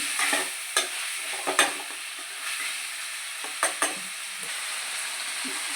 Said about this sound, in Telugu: కొంచెం ముక్కలు వేగే వరకు కొంచెం అలా కలుపుకుండాలి.